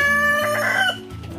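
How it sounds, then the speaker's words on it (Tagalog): Chickens on a small farm in Canada cluck and call loudly and close by, with a drawn-out crow-like call at first, then shorter clucks, and no talking. "Gusto ko din itong manok na to."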